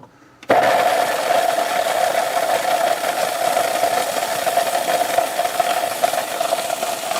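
A blender grinding candy for ice cream: a loud, steady mechanical grinding and rattling starts abruptly after a brief quiet moment and keeps running without a break, with a harsh buzzing whine.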